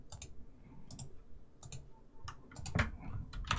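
Sharp, dry mouse clicks, several in quick succession and a few isolated taps, close and fairly quiet while creating a folder on a computer, with no talking.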